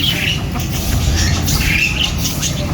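A peacock squawks with harsh, high calls over a steady, noisy outdoor background, repeating a couple of times across the clip.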